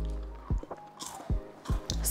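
Crunchy baked pastry, home-baked in a competition, being bitten and chewed close to the mic, with several crisp crunching bites spaced over about two seconds and soft mouth sounds between.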